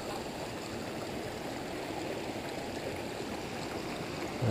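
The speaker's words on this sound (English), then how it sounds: "This is more of a waterfall here." Small creek spilling over a little dam formed by a fallen tree, a steady, moderately close rush of falling water, continuous and unbroken, no voices.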